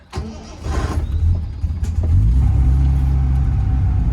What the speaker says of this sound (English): Let's pop in and start her up. All right, give it a little bit of choke because it has been sitting overnight.